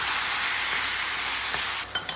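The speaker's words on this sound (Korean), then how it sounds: "같이 볶을게요." Beef and chopped kimchi sizzle steadily in a hot frying pan, a loud close hiss that ends with a couple of light utensil clinks against the pan.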